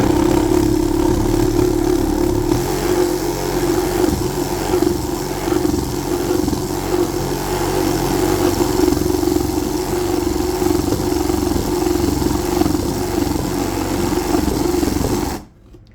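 A handheld reciprocating saw cuts through a long wooden panel, held unclamped without a guide line. Its loud, steady motor buzz runs without pause for about fifteen seconds, then stops abruptly.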